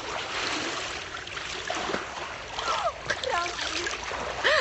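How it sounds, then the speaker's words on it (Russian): Water running and splashing in a pool: a steady broadband wash of flowing, splashing water, with a voice faintly audible underneath. "Вы слышите, как водичка шумит?"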